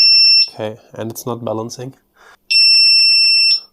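A Begode electric unicycle gives a loud, piercing high-pitched alarm beep, sounding once at the start and again as a sustained tone after a short pause, with a person speaking briefly between the beeps.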